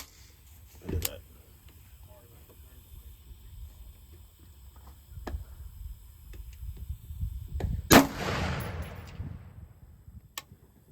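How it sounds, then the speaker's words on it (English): Rifle shots fired through an LPVO scope at a 300-yard target crack out as two sharp reports, the second louder with a lingering rumble, amid soft outdoor handling noise. "let's shoot at 300 and just kind of see where it's at"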